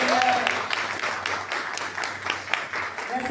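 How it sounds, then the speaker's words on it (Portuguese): Audience applause at a tribute gathering for the Cuban revolution, a steady patter of clapping from a modest crowd, with a voice briefly audible over it at the start and end. "Uma salva de palmas, gente?"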